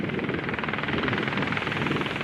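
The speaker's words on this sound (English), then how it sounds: "This helicopter's like hovering." A helicopter hovering over a beach, its rotor producing a steady, fast pulsing thrum and broad engine roar that holds constant and fairly loud throughout, with no talking.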